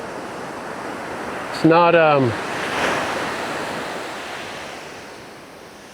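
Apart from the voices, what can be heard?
ocean waves breaking on a steep shelf at Big Lagoon, California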